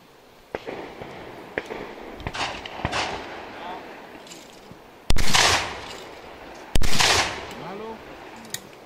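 Two sharp, loud blasts a second or so apart stand out over faint background chatter and scattered smaller pops, like bursts of gunfire.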